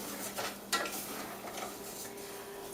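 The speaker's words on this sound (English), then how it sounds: "we're just going to continue sauteing all of it together" Rice and noodles being sautéed together in an oiled pan for a chive and onion rice pilaf, heard as faint stirring scrapes and light utensil clinks over a soft sizzle, with one sharper knock partway through.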